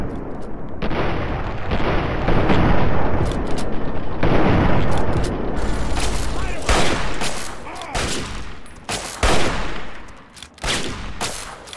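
Dense combat gunfire from the video game Fallout 3, with loud rapid bursts and booming shots packed close together, thinning into separate cracks near the end.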